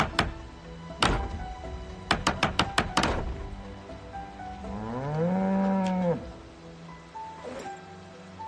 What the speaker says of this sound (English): Hello, moo cows.